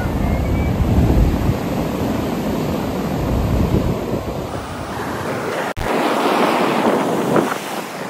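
Ocean waves and surf wash steadily at a Goa beach in the morning, with heavy wind buffeting the microphone throughout and one brief dropout near the end.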